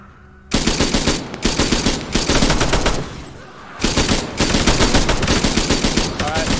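Sustained fire from an armored vehicle's main gun in ArmA III, long loud bursts of rapid close shots broken by brief pauses, with a short quieter gap midway before firing resumes.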